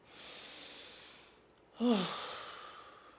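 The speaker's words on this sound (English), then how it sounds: "take 3 obnoxious breaths in through the nose and out through the mouth" A person breathing deeply during a stretching session, a long hissing inhale followed by a short pause, then a fuller, voiced sighing exhale through the mouth, close and alone.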